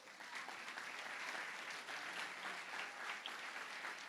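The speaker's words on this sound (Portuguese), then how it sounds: "Aplauda o Senhor Jesus por isso." A church congregation applauds during a sermon, a steady wash of many hands clapping at a fairly low, distant level, with no voice over it.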